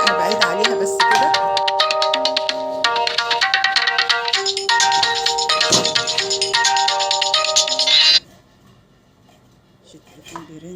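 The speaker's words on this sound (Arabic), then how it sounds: "التليفون بيرن." A phone ringtone rings out in a home kitchen while candy is being made, a loud, bright repeating electronic melody that plays continuously for several seconds and then cuts off abruptly, leaving quiet room sound.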